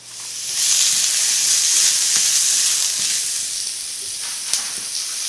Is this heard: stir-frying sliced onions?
yes